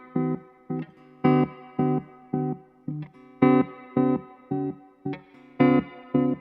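An electric guitar runs through a Stone Deaf FX Tremotron analog tremolo pedal into an amp with reverb, its chords chopped into a steady pulsing rhythm of distinct throbs, clear and moderately loud, with no talk.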